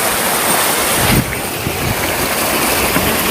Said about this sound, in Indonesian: Kita ngelewatin sungai air panas.